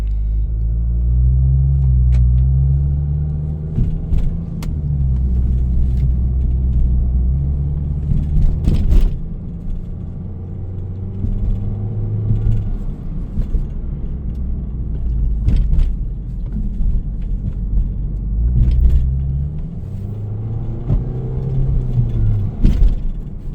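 An Audi A5 with the 2.0T engine, thought to be in limp mode with a timing fault, drives on the road with a steady low engine rumble and road noise that rises and falls as it shifts, heard from inside.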